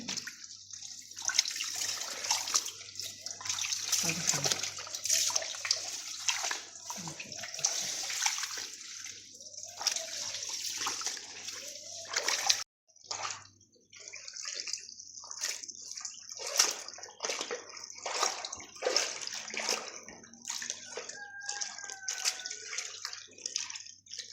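A tap runs steadily while wool is washed by hand, water splashing and sloshing close by with a brief pause partway through, continuing until the flow is cut.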